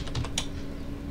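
Brief burst of typing on a computer keyboard while entering Revit shortcuts, a few quick clicks near the start, then a steady low hum.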